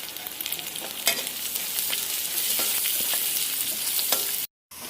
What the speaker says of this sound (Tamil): வெங்காயம் இந்த அளவுக்கு வதங்கினோடனே பச்சை மிளகா 2, கருவேப்பிலை 2 சேர்த்து நல்லா வதக்கலாம்.